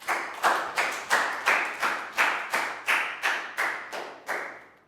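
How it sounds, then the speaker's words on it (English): A Year 3 class claps together in unison during a maths lesson, a dozen or so evenly spaced, sharp group claps in a steady rhythm, each clap decaying quickly, with no talking. "Big round of applause for Net."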